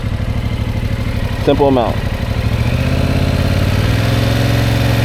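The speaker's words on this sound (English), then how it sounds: "So I'm going to turn the bike on again. Hear the gas." A motorcycle engine idles with a steady low rumble, a brief rev climbing and falling partway through, while a person speaks briefly over it.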